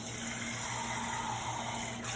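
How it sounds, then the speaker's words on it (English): Water flows over chicken thighs and potatoes in a kitchen, a brief continuous gushing, pouring sound at moderate level with a steady faint hum underneath and no speech. "I'm going to add a little bit of water to this."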